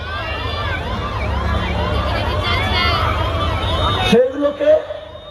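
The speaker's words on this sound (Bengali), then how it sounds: "এই সাইরেন বাজছে অ্যাম্বুলেন্সে" An ambulance siren wails in repeated rising and falling sweeps as it passes through a political rally crowd, loud and close over murmuring voices, then cuts off abruptly as people keep talking.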